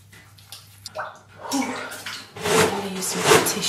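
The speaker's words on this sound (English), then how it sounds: "I'm gonna get water from the bath." Water gushing from a hotel bathtub tap, starting with faint clicks and handling noises before a loud splashing rush fills the room, close and continuous.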